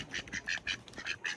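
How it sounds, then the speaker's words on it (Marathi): Several ducks quacking close by in quick, repeated bursts, the calls overlapping into a noisy chattering flock with no talk over them. "हे बदकचे स्क्वॉड आला."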